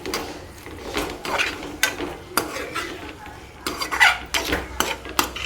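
Coriander being stirred into a prawn masala fry in a pan, with repeated scraping and clinking of a spoon against the metal pan in an uneven rhythm, close and fairly loud, over a faint sizzle.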